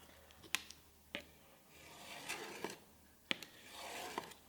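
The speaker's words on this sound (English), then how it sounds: "I'm just using a scraper to do that." A scraper scores a line along a sheet of material before folding, giving several quiet, sharp scratching strokes separated by short pauses, with no talking.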